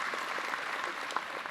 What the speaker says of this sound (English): let's give a big round of applause and a thank you to your parents right now